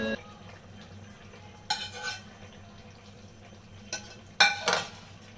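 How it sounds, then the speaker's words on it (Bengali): A utensil gently stirs soft bhola fish and eggplant curry in a pan, making a few scattered scrapes and clinks against the metal over a low background, with no speech. "মাছগুলো খুবই নরম, ওর জন্য আমি আলতো করে নেড়ে দেবো একটু।"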